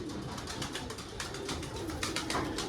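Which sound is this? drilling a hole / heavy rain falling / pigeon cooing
pigeon cooing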